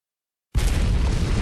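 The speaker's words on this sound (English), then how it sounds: "An explosion happens when you get there" After a moment of silence, a loud, sudden explosion erupts in the video game Abiotic Factor, a dense rumbling blast that holds steady to the end.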